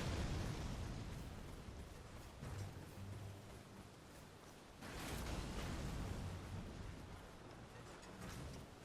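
Enemy fire attack in Elden Ring: a faint, rushing roar with booming bursts around two and five seconds, steady and somewhat distant, with no voices.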